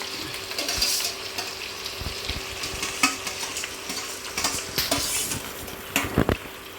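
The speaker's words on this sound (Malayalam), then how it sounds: "നമുക്കിനി ആ തോട് കളഞ്ഞ പലിഞ്ഞീനെ നമുക്ക് ഇതിലേക്ക് ഇടാം" Shelled fish roe (moda roe) frying in hot oil in a pan, a continuous close sizzle broken by repeated scraping stirs and clinks of a utensil against the pan.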